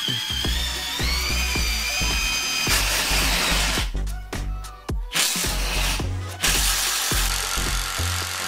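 A Bosch cordless battery impact driver drives a screw with rapid rhythmic impact bursts, fitted with the matching bit for the screw head, running in several loud close bursts with short pauses between them.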